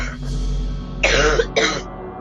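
A person with a cold lets out two quick, close coughs in a row over a low background hum.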